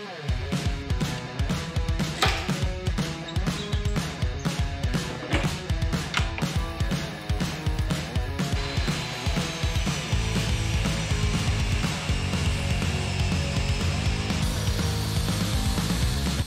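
An old plywood table saw crosscut sled is torn apart in a woodshop, with dense rapid ratcheting and clattering of tools and wood, loud and close, continuing steadily with no voices.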